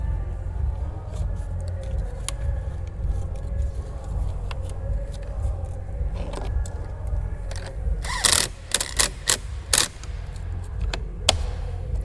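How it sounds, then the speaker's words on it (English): A ratchet tightens the battery bracket on a Hyundai Veloster N: a close, quick run of sharp clicks near the end, over a steady low engine-bay hum with scattered small taps. "We also have to tighten up the battery bracket right there at the bottom."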